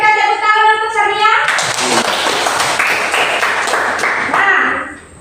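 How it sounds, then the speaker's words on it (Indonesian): Children in a classroom clap together after a pupil answers a teacher's question, a bright burst of hand claps starting after a moment of talk and fading near the end. "kita berikan tepuk tangan untuk Sabria."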